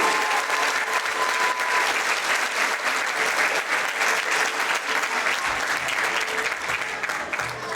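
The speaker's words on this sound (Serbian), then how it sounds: "može jedan aplauz da predloži na ovu koreografiju" Sustained, dense applause from a large audience greets a folk dance choreography of Roma dances, a steady roar of clapping that stays loud and even throughout with no one speaking over it.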